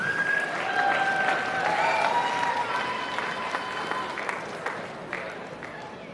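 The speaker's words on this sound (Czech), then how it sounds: "Velký potlesk pro ní." Audience at the Miss Czech Republic 2022 crowning applauds steadily in a dense, continuous patter of clapping, with a few tonal whistles or cheers early on, gradually thinning toward the end.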